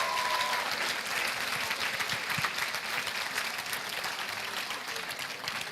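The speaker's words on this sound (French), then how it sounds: "On peut applaudir l'Église Connect quand même." An audience at a church Easter show gives sustained applause, a thick, even crackle of many hands clapping throughout with no voices standing out.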